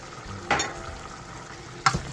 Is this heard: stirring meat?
yes